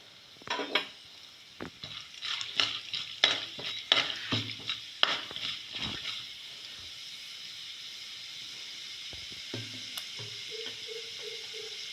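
Mustard seeds, urad dal and chana dal frying in hot oil in a pan: a burst of crackling and utensil clatter for several seconds, then a steady hiss of frying, with a faint hum near the end.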